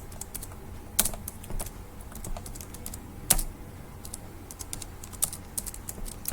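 Typing on a computer keyboard while entering a name into a Microsoft Small Basic program: a steady stream of light key clicks with irregular rhythm and a few louder, sharper taps, heard close with no talking.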